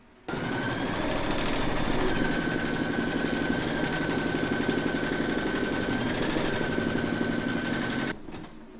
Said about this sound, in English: Pop your hoop into your machine and stitch round number 2 to secure the two together.